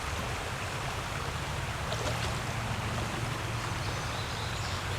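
Steady broadband rush of the Little Miami River in Ohio flowing past a kayak, a continuous even wash of moving water with no voices.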